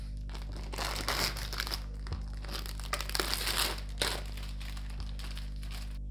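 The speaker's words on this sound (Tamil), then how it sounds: "பேப்பர் வந்து ஒட்டியிருக்காங்க. பேப்பரையும் வந்து ரிமூவ் பண்ணிடலாம்." Protective paper is peeled off a Boat 120W soundbar during unboxing, giving bursts of crinkling and tearing close to the microphone in irregular clusters over a steady low hum.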